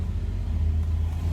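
A truck carrying liquid drags along in one gear, giving a low, steady engine rumble with a faint regular throb that never rises or falls in pitch.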